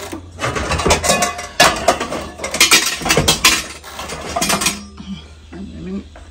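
Metal pans and pots clatter and scrape in a busy run of loud, irregular clanks, then the handling quiets to softer shuffling and a low background hum.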